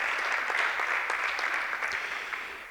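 Loud, dense applause from an audience at a networking event on interior design at Porcelanosa Castellón, steady and close, fading slightly toward the end.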